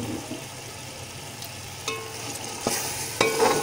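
Chickpeas stirred into spiced rice in a pot for chana pulao, with a low steady hiss and a few sharp scraping knocks of the spoon that grow a little louder near the end.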